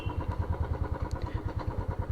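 A motorcycle in first gear with the clutch let out revs and pulls away on a village road, its engine pulsing in a quick, steady thump close by, with no talking.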